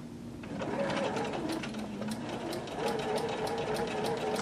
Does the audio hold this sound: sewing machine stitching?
yes